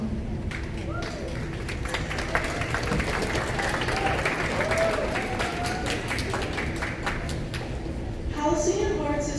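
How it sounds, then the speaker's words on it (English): Applause from a school spring band concert audience, a steady dense wash of clapping from a hall full of people that carries on for several seconds before fading slightly near the end. "give her a round of applause"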